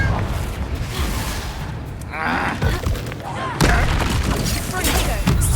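Confringo blasting-curse explosions in the Hogwarts Legacy video game: loud, repeated booms and crashing thuds amid hectic combat noise, with sharp blasts near the middle and end.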